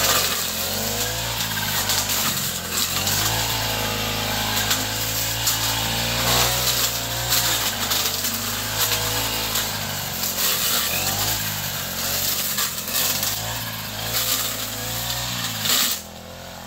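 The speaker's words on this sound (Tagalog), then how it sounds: "Buti na lang may grass cutter na parang chainsaw." A grass cutter on a farm lot with a mango farm in Rosales, Pangasinan, running steadily with a buzzing, chainsaw-like engine drone that rises and falls slightly, loud and close, with no talk over it.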